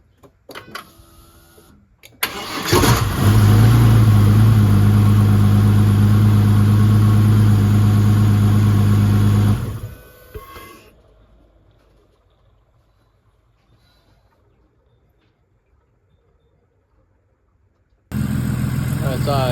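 Turbocharged Ford Barra engine in a Patrol on a dyno: a loud, steady engine roar runs for about seven seconds, then cuts out and dies away, leaving near silence before the engine sound returns abruptly near the end.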